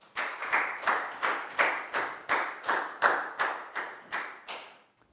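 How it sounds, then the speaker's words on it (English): A class of young students claps for a classmate in a steady, unison rhythm, about a dozen evenly spaced group claps, close and clear with no talking. "big round of applause for Dan,"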